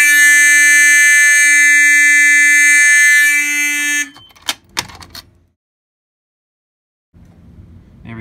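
Fire alarm horns sounding after a pull station is pulled, a loud, steady, piercing electronic tone blaring for about four seconds before stopping, followed by a few clunks and handling noises.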